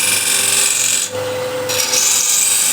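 Burr scraper refiner tool rasping against wood, a steady dense scratching drone that runs continuously and loud, briefly dipping and changing tone midway before resuming, with no talk.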